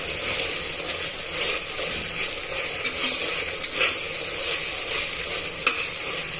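Ginger garlic paste and spices fry in a pan for aloo matar pulao, a continuous close sizzle with repeated scraping and clinking of a spoon stirring at irregular intervals.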